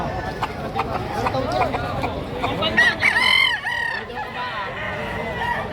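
Amid the bustle of a chicken market in Padre Garcia, Batangas, a rooster lets out a wavering crow in the middle, while someone talks loudly over steady crowd noise.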